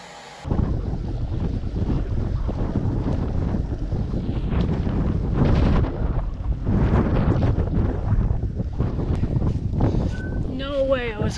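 Strong wind buffets the microphone without a break during a coastal cliff hike at Cabo de Gata, giving a loud, steady roar and rumble that drowns out everything else, with only a faint tonal sound near the end.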